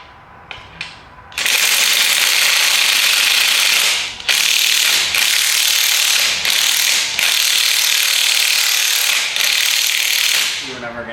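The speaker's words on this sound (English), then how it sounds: "we'll drive a socket on, get those 3 off, get the transmission separated" A socket ratchet wrench clicks rapidly and loudly up close while removing transmission bolts from a Mustang engine, in several long sustained bursts separated by brief pauses.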